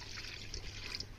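Water trickles and splashes faintly into a pot set up for boiling tomatoes in a home kitchen, a brief, soft, steady pour with no talking.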